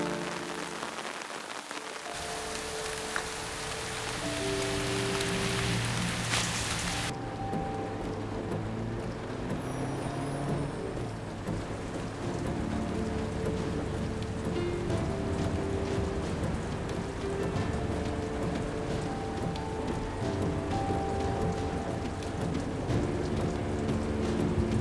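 A heavy rainstorm pours steadily with a dense, continuous hiss, and low rumbles of thunder roll underneath. Sustained musical tones from a drama scene sit over the storm.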